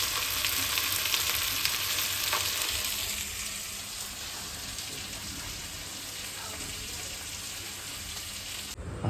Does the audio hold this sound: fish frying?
yes